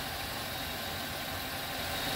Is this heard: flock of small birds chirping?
no